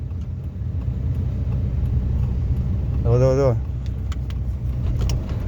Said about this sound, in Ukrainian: Машина котиться.